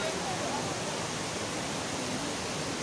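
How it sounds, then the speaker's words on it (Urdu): A waterfall in Kashmir's Neelum valley near Arangkel, a dense, steady broadband rush of falling water filling the whole moment without variation. "تو یہ آبشار کا نیا نظارہ دیکھیے"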